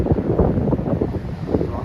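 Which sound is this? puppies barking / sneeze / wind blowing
wind blowing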